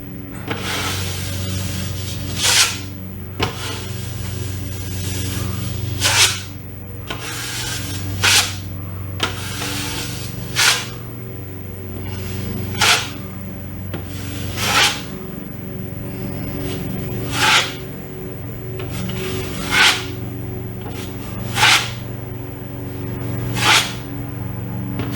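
A drywall knife spreads and flattens joint compound during a wall repair, with regular scraping swipes every couple of seconds, each a sharp hissing rasp, close over a low steady background hum.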